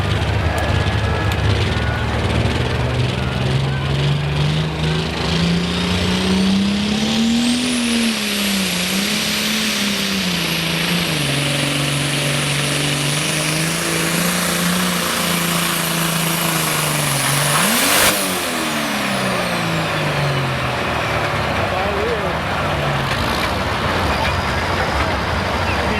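A tractor engine roars loud and close through a tractor pull run, its pitch surging and dipping as the revs change, with a high whine riding on top of the sustained throaty drone.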